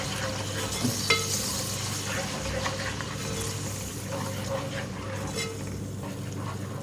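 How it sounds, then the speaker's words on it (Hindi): A steady sizzle of garlic, ginger and green chili paste frying in a hot pan, with occasional stirring clinks and scrapes, close by and without speech. "हरी मिर्च और अदरक लहसुन को मैंने भून लिया है 1 मिनट।"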